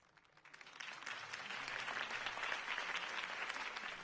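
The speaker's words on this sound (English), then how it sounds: "If only Mr. Wayne, my campaign's largest backer, could have heard that applause" Crowd applause after a mayoral campaign speech in the Telltale Batman video game on PS4: a dense, steady wash of clapping that swells in the first half second and holds loud to the end, with no talk over it.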